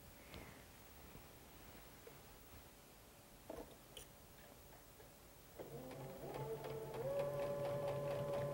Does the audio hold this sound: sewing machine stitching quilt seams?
yes